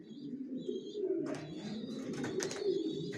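Racer pigeons cooing inside a loft, a continuous low murmuring coo close by with brief higher chirps and rustles on top, steady and moderately loud throughout.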